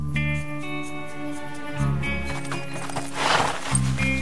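A black horse gallops in a race, hoofbeats clip-clopping in a steady rhythm with neighs and whinnies close by, while background music plays throughout.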